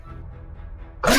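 A single loud sneeze bursts out abruptly at the very end, after a second of quiet low background noise.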